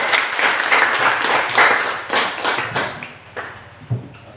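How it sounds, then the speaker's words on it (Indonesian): Classroom of students giving a short round of applause after a group presentation, with quick, clustered claps that thin to a few scattered taps at the end, moderately close. "Tepuk tangan."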